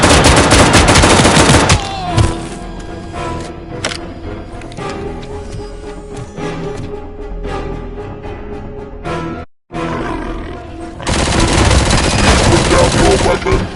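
ED-209 unleashes bursts of heavy automatic gunfire in the RoboCop: Rogue City video game, loud sustained volleys at start and end with a brief silent gap between, plus game sounds and voices in the middle.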